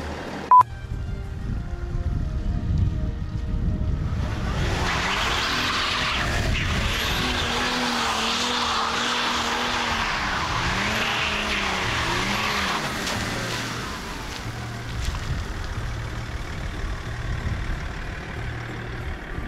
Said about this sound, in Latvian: Tas drifts varēja būt labāks, jā, bet mašīna izskatījās episki.